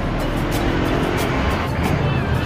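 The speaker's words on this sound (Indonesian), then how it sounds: "Dan bus merah datang." A red intercity bus pulls in at a busy roadside stop on a Monday morning, its engine a steady broadband rumble under continuous traffic noise, with no clear voices over it.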